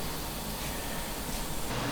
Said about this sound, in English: That initial fan noise you heard were from the graphics card